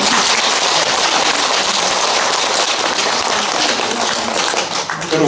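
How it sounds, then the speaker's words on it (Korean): Loud, dense applause from the congregation at a Buddhist dharma service in a temple hall, steady clapping filling the whole stretch and thinning slightly just before the end. "박수 한번 해주세요."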